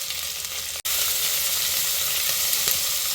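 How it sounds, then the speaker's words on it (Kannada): Chopped onions and green chillies fry hard in a hot pan with a loud, dense, continuous sizzle close by. A brief cutout breaks it early, then the hiss runs on steadily, with no voices. "ಈರುಳ್ಳಿನ ನಾವು ಚೆನ್ನಾಗಿ ಫ್ರೈ ಮಾಡ್ಕೋಬೇಕು, ಅಂದರೆ ಈರುಳ್ಳಿ ತುಂಬ ಬಾಡಬೇಕು."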